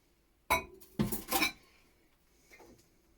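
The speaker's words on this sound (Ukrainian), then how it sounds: "Шкребти гарненько, щоб не залишилося" Yeast mixture for Easter paska dough scraped out of a bowl with a utensil, a few short clinking scrapes close up, then quiet with one faint scrape at the end.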